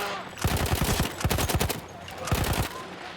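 Rapid bursts of automatic gunfire from a battlefield weapon in Battlefield 1, a World War I shooter, fire in short clusters with brief pauses between them, loud and close.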